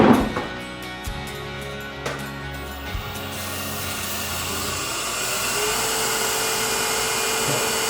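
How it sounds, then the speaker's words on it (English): Light sanding of a turned wooden Christmas ornament on a lathe: after a few sharp knocks, a steady broadband hiss rises and holds, the spinning wood and abrasive producing a continuous close whoosh under the motor hum. "almost no sanding, but I'm going to hit it real lightly"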